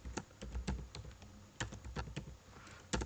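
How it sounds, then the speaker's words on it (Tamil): Someone types on a computer keyboard while entering text into an Excel spreadsheet, producing quiet, close key clicks in irregular short clusters with small pauses, and no one talks. "இப்போது ஃபார் எக்ஸாம்பிள் மதுரைன்னு டைப் பண்ணுறேன்னு வச்சுக்கோங்களேன்."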